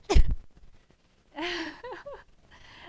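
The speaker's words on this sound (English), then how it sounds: "I'm going to sneeze again" A single sharp sneeze bursts out close by, followed after a pause by breathy vocal sounds and a short murmur.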